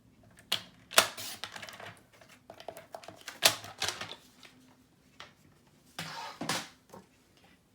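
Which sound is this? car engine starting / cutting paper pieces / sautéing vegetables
cutting paper pieces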